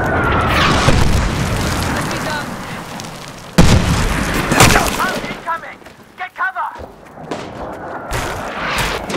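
Artillery strikes in the Medal of Honor Warfighter video game explode as heavy booms, a big blast near the start and another midway, followed by rumbling debris, scattered pops and crackles, with brief game radio voices mixed in.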